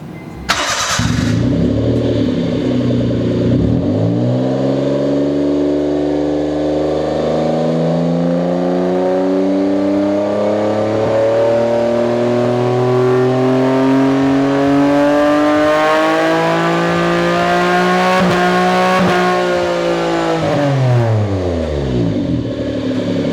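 A Honda Today JA4 city car engine with two high-flow silencers starts and revs repeatedly, rising and falling in pitch with a loud, raspy, booming exhaust drone close up, no talking.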